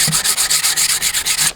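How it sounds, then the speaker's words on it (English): Coarse 80 grit sandpaper rubs paint off an axe in quick back-and-forth strokes, about a dozen rhythmic raspy swipes, close and loud with no talking. "sanding it down"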